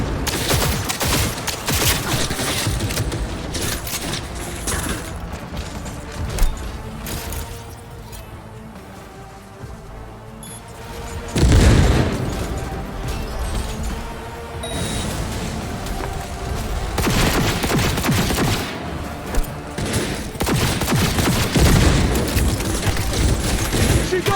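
Sustained gunfire and crashing impacts from the video game Cyberpunk 2077, dense bursts running almost throughout with a brief lull midway, loud and busy, with faint voices mixed in.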